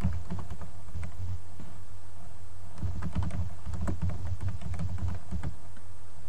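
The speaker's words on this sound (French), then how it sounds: "vous allez taper Convertisseur YouTube" Someone types a search on a computer keyboard, heard as a fast, close run of key clicks with short pauses and no speech.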